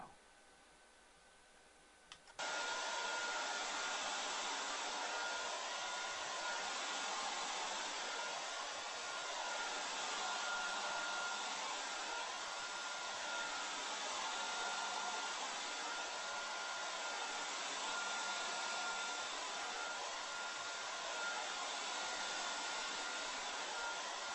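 A hair dryer starts up after a brief quiet moment and blows steadily with a loud, even whoosh that holds unchanged to the end.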